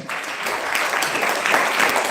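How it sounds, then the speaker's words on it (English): Audience applause at an on-stage university event during a group discussion round, a steady wash of clapping that holds at an even level throughout. "So, where is your clapping?"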